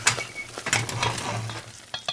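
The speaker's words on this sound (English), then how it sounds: "Just gonna stir it up. Get that butter melted in there." Spoon stirring butter into a pan of freshly cooked peanut brittle, giving a busy run of scraping and sticky, sizzling clicks that carries on steadily and close by without talk.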